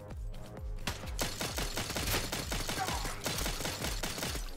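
Rapid gunfire from a newly acquired weapon in the top-down co-op shooter CyberCorp, a dense stream of sharp shots in quick succession lasting several seconds, fairly quiet overall.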